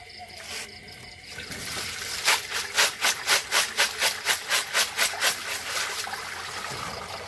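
Clams rinsed under running tap water: a constant flow with a quick run of rhythmic rubbing and splashing strokes in the middle, close and fairly loud.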